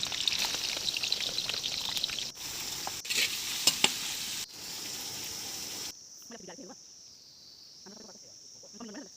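Onion, tomato, beans and radish sizzle and crackle in a hot pan for chowmein, a dense loud fry that cuts in and out over the first six seconds before dropping to a quiet hiss with soft stirring.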